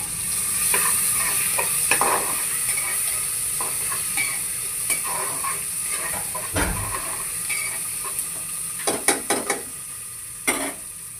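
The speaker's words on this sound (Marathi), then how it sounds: "मिरची टाकून झाल्यावरती आपण त्यामध्ये टमाटर टाकणार आहोत।" Tomatoes sizzling in hot oil with green chillies for pea pulao, a steady frying hiss with scraping stir strokes and occasional clinks of a spoon against the pan, no talking.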